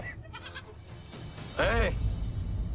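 A young goat bleats several times in short cries, then a louder, wavering bleat follows, heard close with light background noise.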